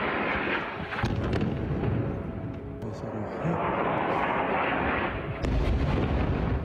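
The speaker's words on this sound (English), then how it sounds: "A wave of heavy airstrikes launched to cover the rescuers echoed across the border town of Rafah" Heavy airstrikes over the border town of Rafah come as a dense, continuous low rumble of distant blasts and booming roar, rolling and swelling without a break.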